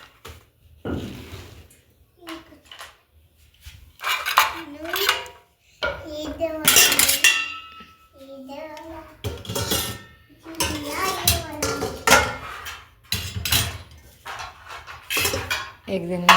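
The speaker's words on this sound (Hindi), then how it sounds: "अब ये सारे बर्तन रख देते हैं।" Dishes, pots and pans are put away in a small home kitchen: repeated close clatters and metallic clinks come in irregular bursts with short pauses between, while a voice and other talk drift in now and then.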